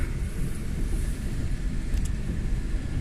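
A steady low rumble of a train rolling past at a distance, continuous and muffled, with no voices.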